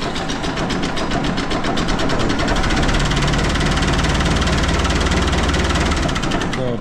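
A Fiat 640 tractor engine runs loud and close with a rough, rapid knocking rhythm, a steady low drone underneath that holds level throughout.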